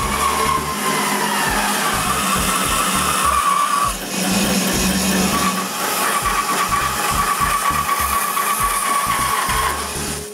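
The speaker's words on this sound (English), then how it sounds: "I cut them on the bandsaw" A bandsaw cuts walnut pieces with paper patterns glued on, a loud continuous whine with rhythmic pulsing and a brief change in pitch midway.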